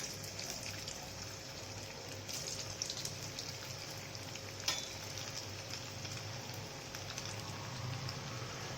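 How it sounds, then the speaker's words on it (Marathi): Bati dough balls deep-frying in hot oil, giving a steady, moderate sizzle with a fine crackling hiss throughout and a single sharper pop near the middle. "बाटी तळून घेऊया"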